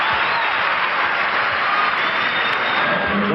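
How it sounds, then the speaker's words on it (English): A basketball arena crowd at a 1996 Orlando Magic versus Los Angeles Lakers game roars in a continuous, loud, broad wash of cheering and applause that holds steady throughout. "Listen to the crowd. They're in it already."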